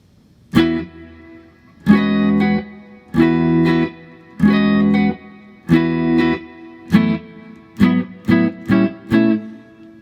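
An electric guitar plays through a handmade 6L6 tube amplifier with reverb: about nine ringing chord strikes, the first few long and sustained, the later ones shorter and quicker, each trailing a reverberant tail.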